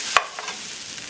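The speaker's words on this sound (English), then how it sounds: "all you want to do now is pretty much stir this, mix it well, and you're heating through that rice" Vegetarian pineapple rice is stirred in a hot pan to heat through, a steady sizzle under one sharp scrape of the utensil and a couple of softer ones; no voices.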